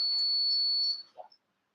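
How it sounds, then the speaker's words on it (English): A quiz buzzer is pressed during a buzzer test at a quiz grand finale, giving a single steady electronic tone that stops after about a second, followed by a brief faint knock and silence. "we will do a test of the buzzer"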